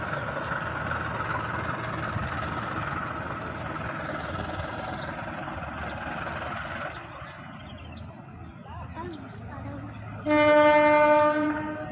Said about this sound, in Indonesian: Langsiran CC206 tertahan sinyal masuk